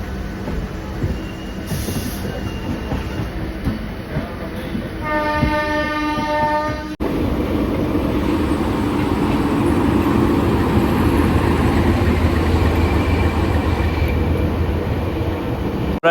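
A train rolls past close by near a new bridge, a steady loud rumble with a clear horn blast around the middle before the wheel and carriage noise fills the rest.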